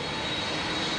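An American Airlines heavy jet airliner taxiing slowly at Los Angeles airport gives off a steady, unbroken engine roar that stays even and fairly close for the whole moment, with no voices.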